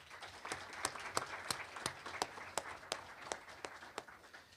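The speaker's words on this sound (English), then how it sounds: "let's give both of them a round of applause" A university audience gives a round of applause at an athletics welcome event, with faint, somewhat distant clapping and distinct individual claps standing out over the steady patter.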